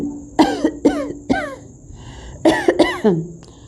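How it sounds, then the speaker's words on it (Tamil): A person coughs in two strained, harsh bursts of several hacking coughs each, with a short pause between them, close and loud. "the old man coughed painfully."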